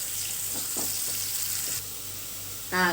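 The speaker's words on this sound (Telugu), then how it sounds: "ఆయిల్ ఏడెక్కిన తర్వాత ఆనియన్స్ యాడ్ చేసుకోవాలి ఆనియన్స్ యాడ్ చేసుకోవాలి దోరగా వేయించుకొని" Chopped onions frying in hot oil for oats upma make a low steady sizzle with a few soft stirring knocks, ending in a brief tap of running water; no one speaks.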